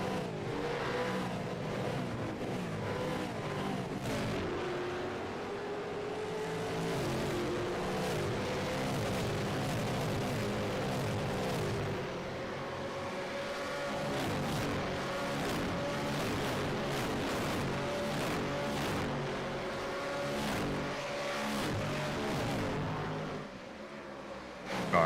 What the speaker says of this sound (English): I just had to stop and listen to the sound of supercars across a curb cam